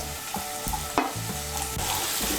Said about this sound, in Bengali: ক্যাপসিকাম কুচিটাকেও মিশিয়ে নেব তেলের সঙ্গে।